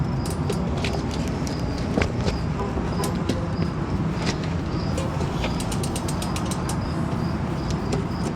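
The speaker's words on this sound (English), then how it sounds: "All right, tighten up our bolt." A bolt on a mountain bike's rear cassette is tightened with a ratcheting tool, producing rapid, steady mechanical clicks and creaks close up, continuing evenly throughout with sharper clicks toward the end and no talking.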